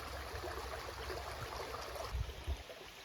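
Steady broadband rush of flowing creek water, continuous and fairly close, with a couple of low thumps near the end.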